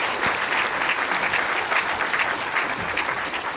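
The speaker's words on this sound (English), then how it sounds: "So can we just give John another great..." Sustained audience applause at a community conference, a dense steady wash of many hands clapping at close range with no talk over it.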